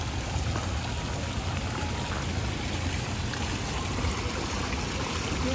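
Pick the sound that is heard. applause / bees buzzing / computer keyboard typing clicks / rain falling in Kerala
rain falling in Kerala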